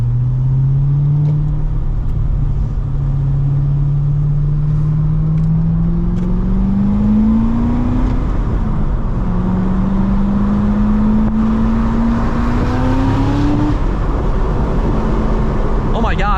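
A supercharged V8 in a C6 Corvette ZR1 with a modified exhaust drones loudly and steadily up close, its pitch rising in long sweeps under acceleration, easing off briefly, then climbing again.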